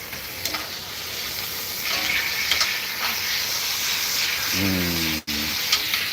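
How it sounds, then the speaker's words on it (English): Steak sizzles in a hot pan at home, a steady crackling hiss with scattered pops running throughout, while a voice speaks briefly over it and a short sharp knock cuts in near the end. "Listen to the sizzle"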